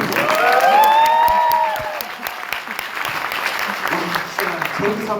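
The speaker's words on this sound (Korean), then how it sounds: "박수 한번 주세요" An audience at a guest speech breaks into applause, a dense clapping burst that peaks early and then tapers to scattered claps, with a speaker's voice continuing over it.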